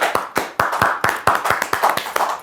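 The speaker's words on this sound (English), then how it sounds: "Clap that up." Sharp, irregular hand claps from a few people on a comedy podcast, roughly a dozen close, loud smacks over a couple of seconds with no talking.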